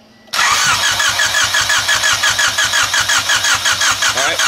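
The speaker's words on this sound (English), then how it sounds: "Go ahead and crank it." A Honda car engine cranked over during a no-spark diagnosis, a loud close starter churn with a fast, even rhythmic chug that never catches, starting abruptly and running steadily to the end.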